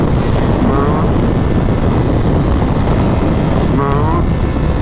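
A Ducati Panigale V4S motorcycle runs steadily in first gear, its engine drone masked by heavy, constant wind roar with brief tonal engine sweeps near the start and end.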